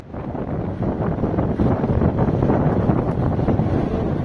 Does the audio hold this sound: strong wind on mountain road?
yes